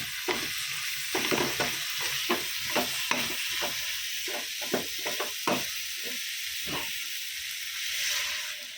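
Tomatoes fry and sizzle in a pan with ground chilli, coriander, cumin and fried spices, a steady hiss broken by repeated scraping stirs of a spoon, close and fairly loud, with no voices.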